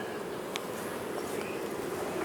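Honeybees fill a nuc box with a faint, continuous buzzing hum that holds steady and unbroken the whole time.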